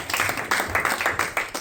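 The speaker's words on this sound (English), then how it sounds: "Can you give a round of applause, please?" Audience applause at a tech summit, a brief burst of clapping in a hall that swells and dips in several waves, moderately loud with a faint voice underneath.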